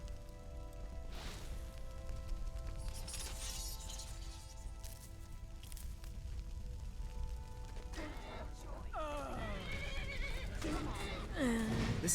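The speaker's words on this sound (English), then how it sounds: "It's a horse." Horse neighing in an Elder Scrolls role-playing game, a whinny rising from a steady ambient background with rain and faint hoofbeats, along with a second call near the end.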